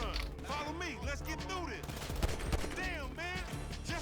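Gunfire in GTA 5, rapid bursts of shots crackling under a busy game soundtrack with tonal effects, fairly faint and mixed, while someone talks over it.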